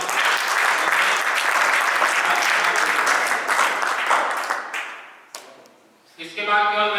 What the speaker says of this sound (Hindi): आप लोगों की जोरदार तालियां।